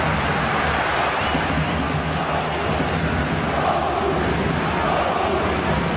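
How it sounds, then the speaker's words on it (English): Football stadium crowd at Borussia Dortmund vs Arsenal in the Champions League, a dense continuous roar of cheering and chanting that stays loud and steady throughout. "that effort has certainly inspired the crowd, because they've gone up their gear a little, with their sound"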